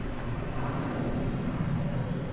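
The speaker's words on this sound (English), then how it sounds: "Here is Qantas Flight 22. It is off to Melbourne." A Qantas jet airliner at DFW Airport produces a steady, broad engine roar that stays loud and constant throughout, with no one talking.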